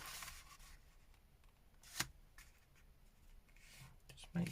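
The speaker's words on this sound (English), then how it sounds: "fold it in half." Sheets of paper for a junk journal bookmark get folded in half by hand: soft, quiet rustling with one sharp crease-like crackle midway and another rustle at the end.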